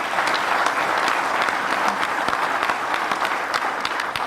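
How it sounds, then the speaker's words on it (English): A crowd at a governor's State of the State address breaks into a sustained round of applause, dense overlapping claps holding steady and loud for several seconds. "Y'all should give them a round of applause."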